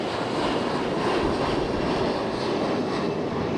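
Fuji Dream Airlines airliner at Fukuoka International Airport, a steady broadband jet roar that stays loud and even throughout, close by with no talk.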